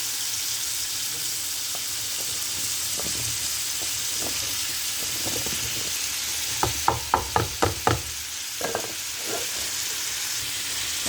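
Ivy gourd and prawns frying in a pan, with a steady background sizzle and a run of sharp clacks and scrapes from stirring around the middle, then quieter sizzling.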